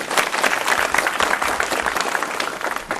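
An audience at a televised debate applauds with dense, steady clapping that stays loud and even for a few seconds.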